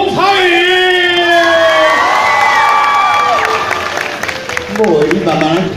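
An audience at a birthday celebration event bursts into loud cheering, with rising whoops and shouted voices over a dense crowd roar and clapping that thins toward the end.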